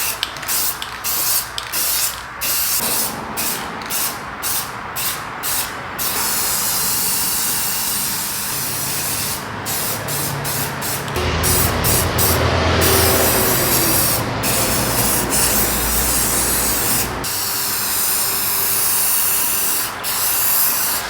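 A spray gun lays a third coat of paint on a Ford F250 truck. Loud, close hissing blasts alternate between short rapid bursts and long sustained passes of steady spray.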